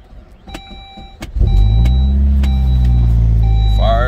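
A dirty turbocharged car's engine starts after a few clicks and chimes, cranking briefly and catching into a loud, steady close idle rumble, with a faint rising whine near the end.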